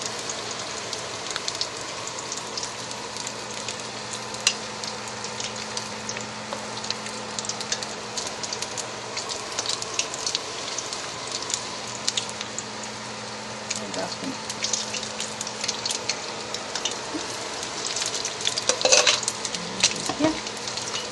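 Pork pieces for sweet and sour pork fry in very hot oil in a pan, giving a steady, dense crackling sizzle throughout with a few louder pops near the end and no talking.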